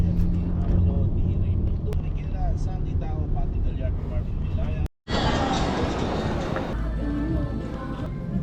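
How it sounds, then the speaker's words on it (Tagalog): Busy road traffic on EDSA heard from inside a vehicle, a dense continuous rumble of engines and passing cars with voices chatting over it and a brief dropout midway. "Traffic sa EDSA guys."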